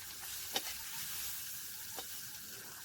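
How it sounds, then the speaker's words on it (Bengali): Small shrimp fry in hot oil in a pan, giving a continuous bright sizzle with a couple of soft clicks and scrapes as they are turned and stirred, close and steady with no talking. "একটু লাল করে ভেজে নিতে হবে, যে উল্টে পাল্টে আমি ভালো করে ভেজে নিচ্ছি"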